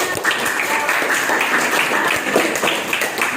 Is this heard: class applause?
yes